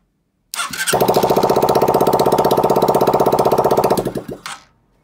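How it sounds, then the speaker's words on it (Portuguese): A motorcycle engine, after a misfire fault, cranks briefly, catches, and settles into a steady, rapid idle for several seconds before cutting off. "bater na partida que a moto vai pegar"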